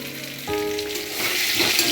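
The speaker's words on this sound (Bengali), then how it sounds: "কড়াইতে তেল দিয়ে আলুগুলোকে হালকা করে ভেজে নেব।" Potatoes frying lightly in oil in a wok (kadai) give a steady, close sizzle that grows a little louder partway through, with a brief tonal hum in the background and no speech.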